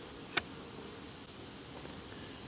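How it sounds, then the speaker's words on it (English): A steady, faint buzzing hum of many bees inside a beehive fills the background, with a single brief click early on. "A lot of bees are in the hive."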